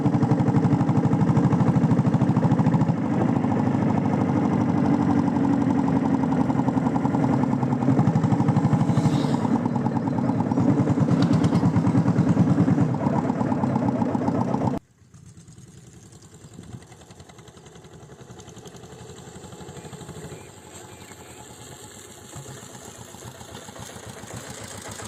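A restored diesel Bullet motorcycle engine runs steadily in fourth gear with a loud, continuous thumping drone that drops abruptly to a quieter, lighter running sound partway through.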